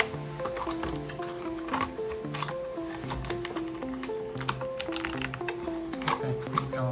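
Typing on a Keychron K3 V2 wireless mechanical keyboard makes a quick run of light, irregular key clicks, fairly soft and near, over a steady melodic tune playing in the background.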